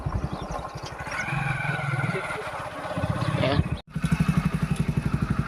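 A motorcycle engine idles at a Nayara petrol pump with a close, rhythmic putter that stays steady throughout, while people talk over it.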